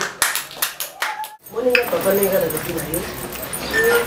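A church congregation clapping in praise during a service, a quick run of sharp claps followed by dense crowd applause mixed with voices and singing.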